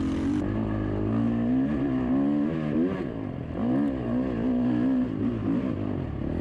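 A motocross bike engine in an MSX racing video game revs and whines continuously, pitch rising and falling through repeated throttle sweeps, loud and close with no talk over it.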